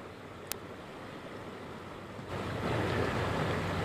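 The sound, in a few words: floodwater rushing in a swollen creek during Hurricane Florence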